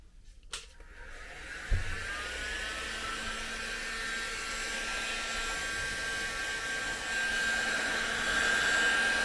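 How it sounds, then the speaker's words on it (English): A Steinel 2000 watt heat gun blows steadily while warming a 1974 MGB gauge, a continuous airy whoosh that starts after a brief click and grows slightly louder toward the end. "It's a Steinel 2000 watt heat gun. So I'm actually just setting it to 3"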